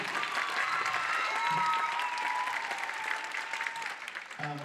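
An audience at a high school and junior high choir Christmas concert applauds, a sustained roomy wash of clapping with a voice briefly audible at the end.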